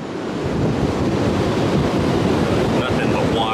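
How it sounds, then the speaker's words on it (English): Strong wind buffets the microphone in a constant roar at the front of a cruise ship's deck at sea, with rushing water and surf noise mixed in beneath it. "Ooh, it's windy."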